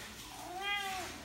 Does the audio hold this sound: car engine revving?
no